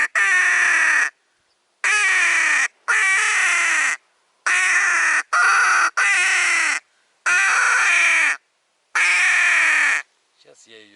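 A crow cawing in a run of loud, harsh calls, each held about a second, repeated eight times with brief silent gaps, close and clear with no talk over it.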